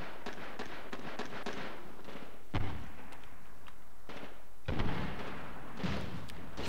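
Artillery fire in Medal of Honor Warfighter multiplayer: two distinct booming impacts land a couple of seconds apart over a continuous rumble of battle noise.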